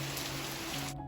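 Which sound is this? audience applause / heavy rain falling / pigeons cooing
heavy rain falling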